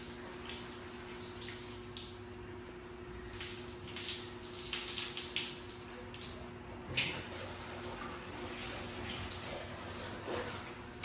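Water runs steadily from a tap in a bathroom during cleaning. The flow is faint and continuous, with splashes and clatter now and then.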